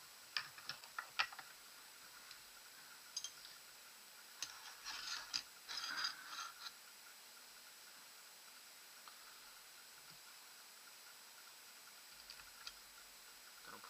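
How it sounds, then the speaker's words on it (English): Small metallic ticks and ratcheting clicks come from close by as a tri-rail riser is reattached to a Tiberius T9.1 paintball marker, with scattered taps and a short busier burst amid quiet stretches. "So I'm going to reattach my tri-rail."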